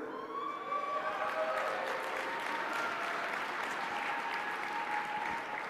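An audience at a seminar breaks into a sustained round of clapping, a dense, even patter of many hands that holds steady throughout.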